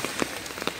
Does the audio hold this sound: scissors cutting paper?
no